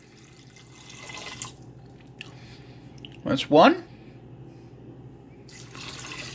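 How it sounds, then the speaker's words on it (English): Water pours into an Instant Pot of cooled ground meat in a brief, close splashing burst in the middle of a quiet kitchen, with a person talking just before it. "we're going to add about 2, maybe 3 cups of water"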